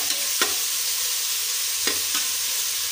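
Green chillies frying in a pan with a steady broadband sizzle, broken by a few sharp scraping stirs near the start and again near the end, close and fairly quiet with no talk.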